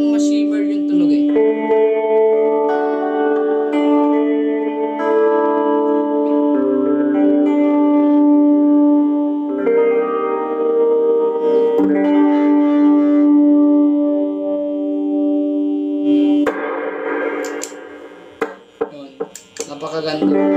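Electric guitar played through a Sonicake Levitate shimmer reverb pedal with the reverb turned up high, sustained chords and notes ringing into a long, bright, swelling wash, loud and continuous, with a few scratchy pick sounds near the end.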